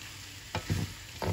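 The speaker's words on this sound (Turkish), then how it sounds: "Güzelce karıştıralım." A few scraping stirs of a utensil through chopped vegetables frying in a hot pan, with a soft sizzle underneath; close and brief.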